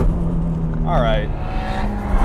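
A heavily modified 1,000 hp Nissan R34 GT-R with an open wastegate drones at Fuji Speedway, its engine note rising briefly mid-clip beneath a voice.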